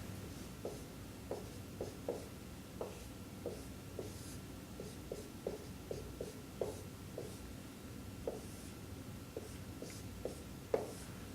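A marker or chalk writing a fraction problem with variables on a board, giving soft scratchy strokes and light taps in an irregular rhythm, faint and steady with no talking.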